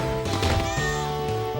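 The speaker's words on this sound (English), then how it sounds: "a cat just came up and meowed at me" A cat meows up close, a short rising cry standing out clearly over steady video game music, with a bit of muffled rustle around it.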